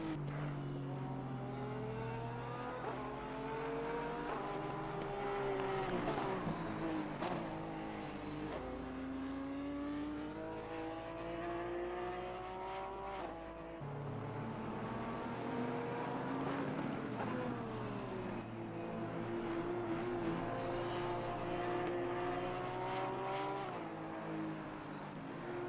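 Porsche race car engines at Indianapolis in a racing video game, a steady loud drone rising and falling in pitch as the cars accelerate and shift, continuous throughout with overlapping engine tones.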